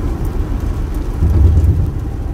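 Steady rain and road noise from inside a vehicle driving the US95 highway toward Las Vegas in the evening, a continuous broadband wash with a low rumble that swells slightly midway, no talk.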